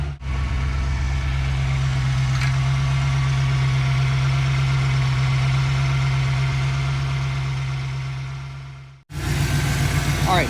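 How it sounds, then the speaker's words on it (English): A Ford Foxbody Mustang engine idles steadily at about 850 to 900 RPM, a smooth low rumble held for around nine seconds before a sudden change, with no talking. "we now have the car idling a lot better"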